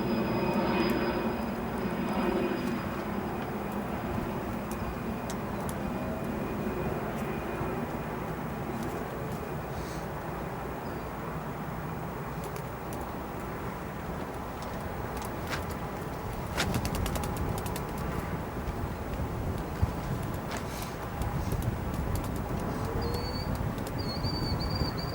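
Republic Embraer 175 airliner landing at O'Hare airport, heard from a distance as a steady broadband engine and wind roar that holds evenly throughout, with faint clicks and no talking.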